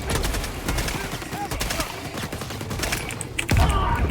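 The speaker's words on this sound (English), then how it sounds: "Throwing grenade." A grenade explodes in the Helldivers video game, with rapid cracking bursts of gunfire and clatter leading up to a heavier, booming blast near the end.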